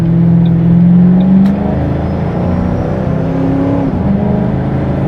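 A Ford Mustang GT engine pulls under acceleration while driving, heard from inside the car, a loud steady drone whose tone eases and shifts after a second and a half, with no speech.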